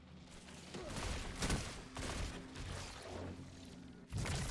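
In a video game, a Neomuna pulse rifle, the Phyllotactic Spiral, fires a string of quick punchy bursts, several volleys in a row with short gaps between them, fairly faint overall and with no talking.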